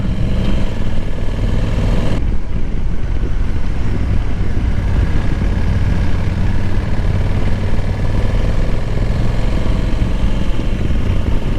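A Honda Africa Twin with DCT ridden through corners on a demo ride, its engine a steady, loud, continuous drone with wind rush, fairly even throughout and with no talk.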